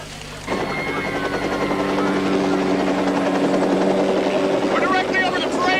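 A helicopter's steady, throbbing rotor drone roars loud and close overhead, holding throughout with a constant engine whine.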